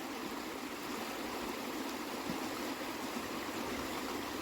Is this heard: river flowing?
yes